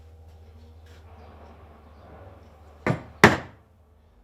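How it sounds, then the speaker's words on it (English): A suitably sized chisel is struck twice in quick succession around a hole in wood while a garden seat is being made, two sharp, loud close knocks after a quiet stretch, with a brief word spoken just before. "you start off just by going around the outside of the hole with a suitably sized chisel."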